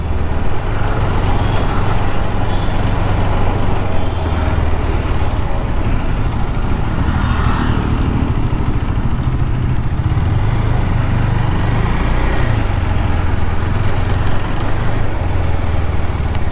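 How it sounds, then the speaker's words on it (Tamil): Dense, steady road traffic with loud motor vehicle rumble and engine noise from cars, trucks and buses, continuous and close throughout, heard from a motorcycle rider near a helmet shop in Marthandam. "செம்ம டிராஃபிக்காக இருக்கு"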